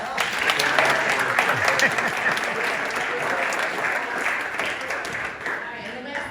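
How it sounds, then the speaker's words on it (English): Audience at a university distinguished lecture breaking into sustained applause, a dense, even roar of many clapping hands that holds steady and fades slightly at the end. "Give him a round of applause."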